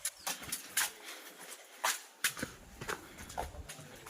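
A bull's hooves clop irregularly on hard ground at a slow walking pace, fairly close, over a constant hiss of background noise.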